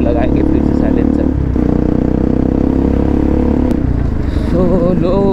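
A Bajaj Pulsar NS 200 motorcycle fitted with an Akrapovic exhaust runs loud and close, its engine note steady with a brief rev toward the end, and a voice speaks over it.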